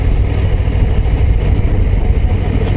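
Deep, steady rumble of a Harley-Davidson Low Rider ST twin-cylinder cruiser at about 1500 rpm in third gear, close and loud, with a low throbbing pulse and wind noise throughout.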